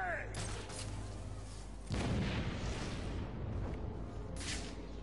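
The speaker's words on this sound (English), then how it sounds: "Grenade." A grenade blast in the Batman: Arkham City video game, a heavy boom near the two-second mark that rolls into a sustained rumble and crackle, laid over continuous game music and effects.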